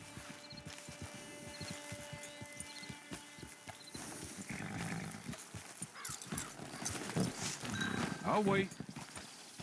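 Horse hooves clip-clop in an even walking rhythm on a dirt path in the Red Dead video game, with a neigh and other game sounds, while characters talk over the steps.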